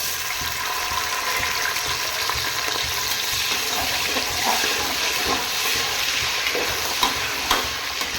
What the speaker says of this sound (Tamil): எண்ணெய் காய்ஞ்சிருச்சு இப்போ நம்ம வெங்காயம் போட்டுக்கலாம்